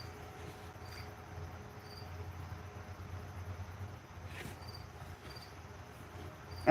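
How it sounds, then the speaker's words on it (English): A cricket chirps in faint, repeated bursts over a quiet low hum, the short high trills spaced a second or so apart and fairly distant. "And I cannot take the noise of a cricket."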